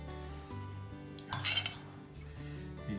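A utensil scrapes and clinks against a bowl while mixing a chicken skewer marinade seasoned with salt and pepper, with steady soft stirring and a brief louder burst of clattering midway, close by and alone.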